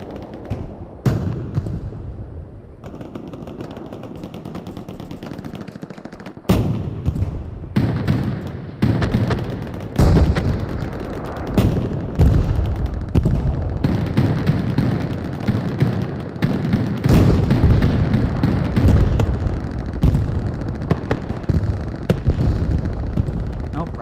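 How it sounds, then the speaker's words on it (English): Rocket launches and gunfire from a tank battle video game, a dense run of loud booms and sharp shots over a rumbling background, with a commentator talking throughout. "more and more rockets, more and more shots going out as TRR again on the advantage here"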